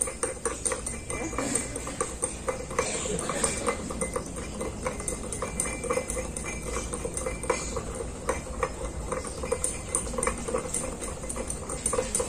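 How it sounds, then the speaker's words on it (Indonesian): A spoon stirs sugar into a glass of water, giving a continuous close clinking and scraping against the glass, steady and alone for the whole stretch. "Kita aduk."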